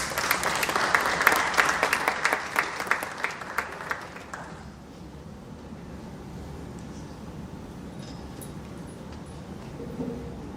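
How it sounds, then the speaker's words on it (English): Applause at NIT Warangal's foundation day celebration greets the director, a brisk burst of many claps that fades out after about four seconds, leaving a low hall hum and faint room noise. "Let's welcome him with a huge round of applause."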